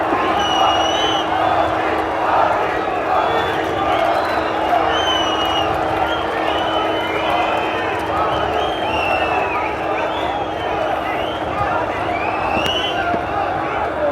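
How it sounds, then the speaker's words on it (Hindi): A large crowd at an election rally for Prime Minister Modi cheers, whistles and claps, a thick, sustained roar of voices and applause filling the open air throughout. "जोरदार तालियों के साथ माननीय प्रधानमंत्री मोदी साहब का अभिवादन करें।"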